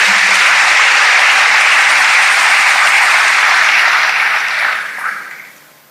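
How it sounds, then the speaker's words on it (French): A church congregation bursts into sustained applause and cheering, a dense wash of clapping hands that holds steady before tapering off near the end, with no voices speaking over it. "Acclamons le Seigneur."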